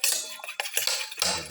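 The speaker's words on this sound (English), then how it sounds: "Mix the yellow and the white portion of the eggs together." Eggs being whisked together in a bowl for a winter melon omelette: rapid metallic clinking of a utensil against the dish, close and busy in short bursts, no voices.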